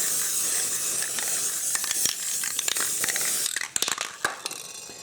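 Rust-Oleum NeverWet coating sprayed from an aerosol can gives a steady close hiss for several seconds, then breaks into short choppy bursts and clicks as the spraying stops and starts.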